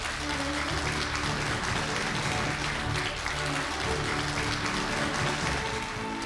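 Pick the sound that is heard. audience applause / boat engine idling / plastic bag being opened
audience applause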